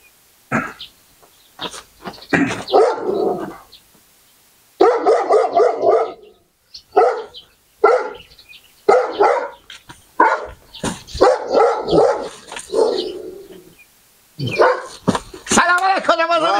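A dog barks repeatedly, loud and close, in short bursts mixed in with lively talking voices throughout.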